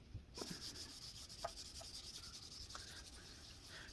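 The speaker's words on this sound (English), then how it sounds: "But lucky for us, there is wet sandpaper. And we're now moving on to 2500, by the way." A cheap ES-335 copy guitar body is wet sanded by hand with 2500 grit sandpaper: a quiet, continuous rubbing hiss with light rhythmic strokes and a few faint squeaks.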